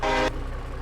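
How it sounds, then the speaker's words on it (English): A loud train-style horn on a diesel truck in Farming Simulator 22 blasts once for about a third of a second, then cuts off, leaving a steady low engine rumble underneath. "And they got a train horn also."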